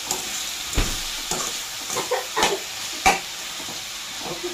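Tamarind pulp added to tomatoes frying in a hot pan sizzles and hisses steadily, with stirring clatters scattered throughout.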